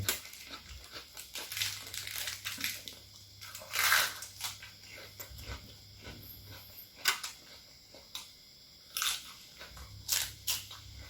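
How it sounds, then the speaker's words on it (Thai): Crisp, crunchy bites and chewing of spicy Thai pork sausage salad with fresh vegetables come in irregular bursts, close and fairly quiet, with soft crinkling between them and no talking. "ต้องดูด้วยได้ยินเสียงกินด้วย"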